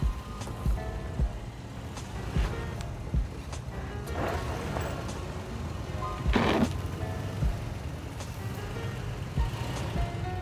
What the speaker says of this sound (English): I'm gonna try and see if it will get unstuck and make it up the rest of the hill.